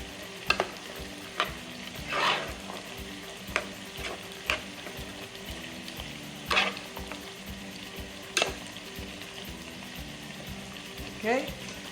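Curry cod fish frying in a pan, a soft steady sizzle broken by repeated sharp scrapes and clinks of a utensil stirring against the pan, fairly quiet and close with no talking.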